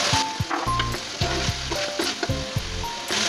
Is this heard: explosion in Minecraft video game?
no